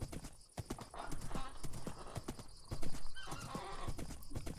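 Horse hooves clip-clop in a steady, uneven rhythm in the video game Minecraft, with a horse whinnying partway through; fairly close and moderately loud.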